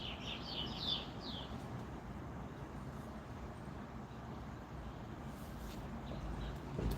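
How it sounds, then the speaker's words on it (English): A few faint bird chirps twitter briefly near the start over a steady low rumble of distant traffic. "Oh, the tweety little birds."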